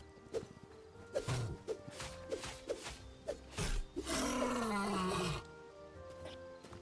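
A bear in the video game Hytale gives a series of short growls and thuds, then one long, loud roaring bellow that slowly falls in pitch before cutting off, with no talking over it.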